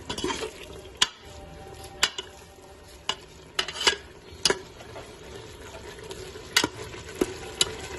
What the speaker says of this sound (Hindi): इसमें हम घी डाल देते हैं और इसकी अच्छी तरह भुनाई कर लेते हैं।